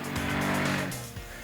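A 2010 Polaris Sportsman 400 ATV, a 400cc engine in a lightweight Hawkeye chassis with shiftable 4x4, revs hard and close, its engine note rising and then dropping sharply in a brief burst without speech.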